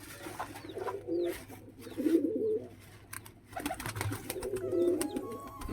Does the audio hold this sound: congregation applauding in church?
no